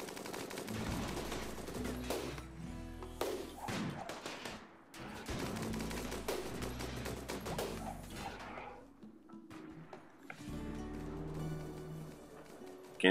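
Minigun bursts in RimWorld, loud sustained rattling fire in several long volleys broken by short pauses, with a faint final pop at the end.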